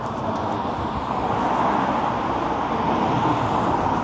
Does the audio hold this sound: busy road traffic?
yes